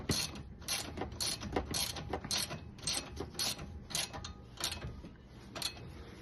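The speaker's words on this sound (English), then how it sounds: "The guide pins have been inserted, and it's just a case of tightening them into position." Ratchet wrench clicking in steady bursts while tightening brake caliper guide pins on a 2015 Jaguar XJ, close and fairly quiet, with no talking.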